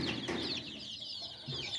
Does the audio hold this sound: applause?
no